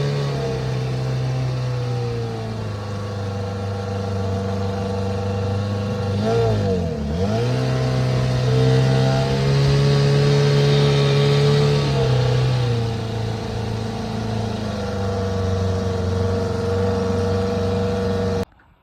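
An outboard motor on a 1980 john boat drones steadily and loudly on the water, its pitch dipping briefly then rising as it revs up, running continuously before cutting off abruptly.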